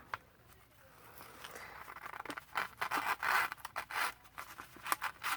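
Scissors cut through paper scraps or gift wrap in a run of quick, crisp snips and rustling scrapes, growing busier and louder toward the end, close to the microphone with no talking.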